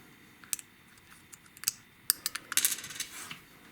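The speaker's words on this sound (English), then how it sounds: "take the small flat tip screwdriver, place it right there, pull the old battery out" Small flat tip screwdriver prying the old battery out of an Isuzu Axiom or Rodeo key fob, a few sharp plastic clicks and scrapes close by, bunching into a quick cluster of ticks near the end.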